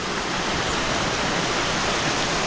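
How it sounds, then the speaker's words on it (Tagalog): A wide river in South Luzon rushes with a steady, continuous broadband wash of flowing water, unbroken and fairly close throughout. "Ayan yung ilog."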